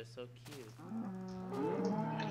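Cows mooing in Minecraft, several drawn-out low calls following a few quick clicks, heard fairly close and moderately loud.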